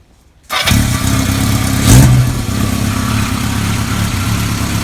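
A 1980 Kawasaki KZ650 motorcycle engine cranks and catches after a moment of silence, settling into a steady, loud idle with one brief rev swelling in the middle, heard close up and alone.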